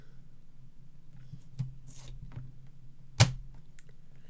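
Cardstock being cut on a paper trimmer for a painted poppies centre step card, a few quiet slides and scrapes followed by one crisp cutting snap, close and alone.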